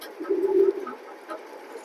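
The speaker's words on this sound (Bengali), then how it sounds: "কবুতর খুবই সুন্দর। বিগ সাইজের একটা জোড়া" A big-sized pair of pigeons gives a short, soft cooing call, one low purring coo up close followed by a fainter murmur, with no talking.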